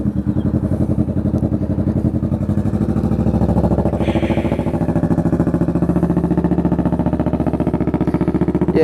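Kawasaki Vulcan S motorcycle fitted with a Two Brothers Racing exhaust and Power Commander V, idling close up with a loud, deep, choppy, pulsing rumble that holds steady throughout.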